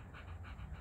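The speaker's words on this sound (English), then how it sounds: "My guard dog." A dog pants steadily in rhythmic, close breaths, soft and continuous with no talking.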